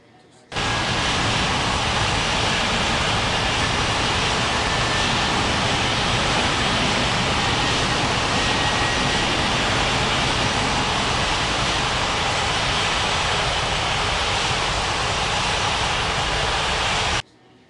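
Loud, continuous roar of airliner jet engines at Ngurah Rai Bali International airport in the game Unmatched Air Traffic Control, a steady broadband rush lasting throughout with no speech.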